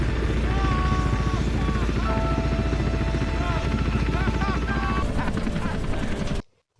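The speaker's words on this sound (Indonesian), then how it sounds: "helikopter yang berpatroli pun datang dari arah yang berlawanan" A patrol helicopter flies in with a loud, steady rotor beat under a swell of film score and distant voices, and the sound cuts off sharply near the end.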